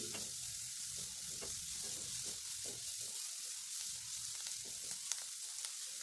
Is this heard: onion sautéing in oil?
yes